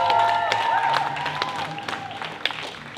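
Crowd at an outdoor Women's March rally in Keene, New Hampshire, clapping and cheering for three seconds, a steady wash of applause with scattered whoops and whistles, loud and close.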